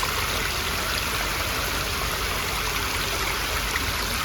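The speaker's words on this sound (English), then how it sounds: "It's like these kind of little tiny steps that create a waterfall. Kind of ripples." A small stream babbles steadily over small rock steps, a continuous close wash of splashing water with no pauses or voices.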